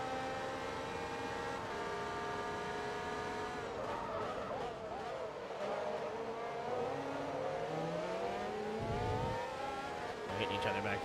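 A race car in Forza Motorsport 2 on Xbox 360 revs hard and accelerates, its engine note climbing through gears with tire squeal and skidding, steady and fairly close throughout while other cars drone nearby.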